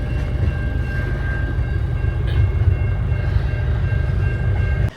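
A long freight train rumbles past at close range near Broken Hill, a loud continuous low roar of rolling wagons with steady wheel noise and a faint high metallic squeal, holding level before cutting off abruptly.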